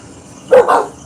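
Two dogs roused from sleep let out one loud, close double bark, a quick pair of yaps against a quiet background.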